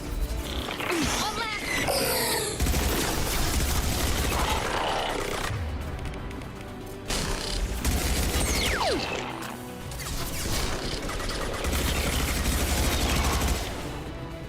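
Heavy Mass Effect 2 battle noise: repeated stretches of loud, dense weapon fire and crashing impacts with roaring, growling bursts, broken by brief lulls, with voices mixed in.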